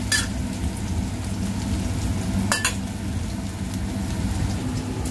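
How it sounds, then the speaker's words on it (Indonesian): Bitter melon frying half-cooked in a pan, giving a steady, rain-like sizzle with a couple of brief stirring scrapes. "digoreng dulu setengah matang"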